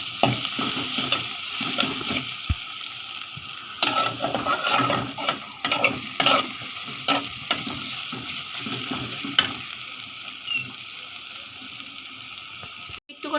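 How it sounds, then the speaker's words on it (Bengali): Ginger-garlic paste with chili and turmeric powder frying in a hot pan, a constant close sizzle broken by scraping and stirring of a spatula against the metal. "আদা রসুন বাটা দিলাম এ তো মরিচের গুঁড়া দিয়ে দিচ্ছি এখানে যে একটু হলুদের গুঁড়া দিয়ে দিব মশলাটা পুড়ে যাচ্ছে"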